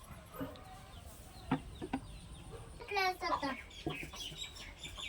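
A chicken in a garden clucks in a few short bursts against quiet outdoor background, with scattered voices and someone talking nearby.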